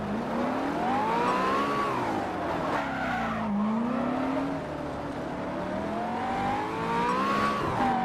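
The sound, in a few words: race car spinning and skidding in Simraceway racing video game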